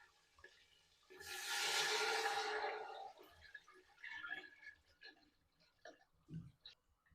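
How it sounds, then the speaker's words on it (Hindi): Lassi poured into a hot pan with garlic for kadhi gives a loud, steady gushing pour lasting about two seconds, followed by softer stirring and bubbling sounds. "अब लस्सी शामिल करेंगे इसमें।"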